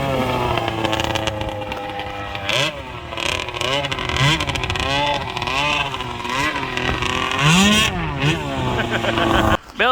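A snowmobile engine missing on one cylinder runs and revs unevenly, with rising and falling pitch sweeps and a sharper rev near the end, while people talk over it.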